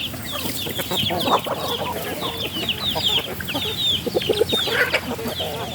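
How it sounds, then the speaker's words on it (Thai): Chicks and chickens in a flood-hit Thai village, cheeping and clucking steadily at close range, with busy high calls running throughout and no voices. "ลูกไก่เรา"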